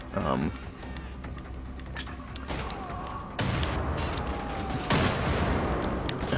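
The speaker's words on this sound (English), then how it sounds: "now we just have fun with the shotgun, because shotguns are fun" Shotgun blasts and gunfire from the video game Wolfenstein: The Old Blood, a few loud bursts breaking out of a busy, dense mix of game sound, with no clear gap between shots.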